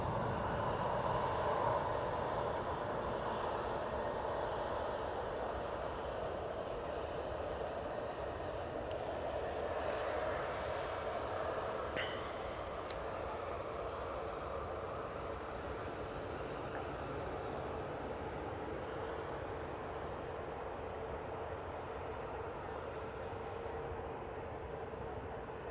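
An Aer Lingus A330 airliner lands at Manchester Airport, giving a broad, distant jet roar that holds steady and slowly fades, with faint higher-pitched whine and some light background noise.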